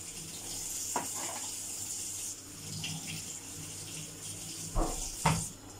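Steady rush of water running from a tap, fairly quiet and continuous, with a few brief clunks and knocks near the end.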